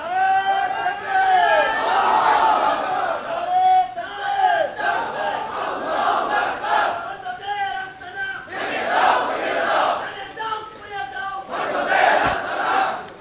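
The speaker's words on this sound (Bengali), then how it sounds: "এবার স্লোগান হবে" A large crowd chants slogans in unison at a Sunni religious rally in Bangladesh, loud rhythmic call-and-response shouting rising and falling in repeated waves over about thirteen seconds.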